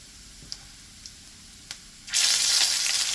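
Oxtail hits a hot pan and bursts into a loud, steady sizzle of browning meat, preceded by a few faint clicks and taps.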